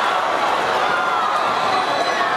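Basketball crowd at a high school game between Northview and Dothan roaring after a slam dunk on a putback, a dense, steady wall of cheering and shouting that holds loud throughout.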